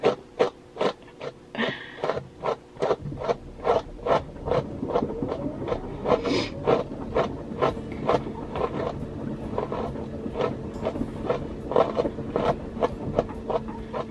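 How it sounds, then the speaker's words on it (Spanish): A household washing machine runs nearby with a repeating rhythmic thumping and knocking, steady pulses about twice a second over a low mechanical hum. "lo que suena ahí aquí es la lavadora"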